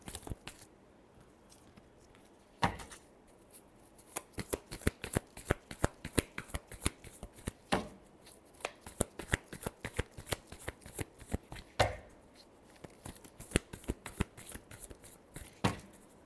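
A deck of tarot cards is shuffled by hand close to the microphone, giving a long run of rapid crisp riffling snaps with several louder slaps, keeping up a steady uneven rhythm throughout.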